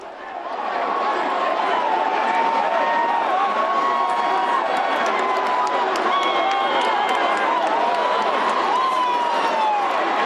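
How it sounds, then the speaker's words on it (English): A large crowd at a Donald Trump rally in Chicago reacts to protesters with a sustained, loud roar of voices, shouts and jeers that holds steady after a brief swell at the start. "It looks like the protesters are protesting peaceably so far, and the crowd's booing them"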